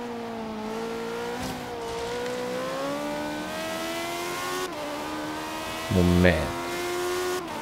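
A car engine in the racing game Forza Horizon 3 revs steadily and close, its pitch climbing and dipping between gear changes, with a short burst of extra roar near the end and a voice speaking briefly over it.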